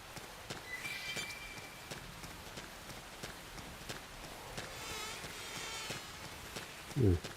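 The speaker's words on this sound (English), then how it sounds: "Got little buzzing sounds for the bugs" Small insects buzz in the Xenoblade Chronicles X video game, a faint, thin whine drifting among regular soft footfall-like clicks, with a brief low thump near the end.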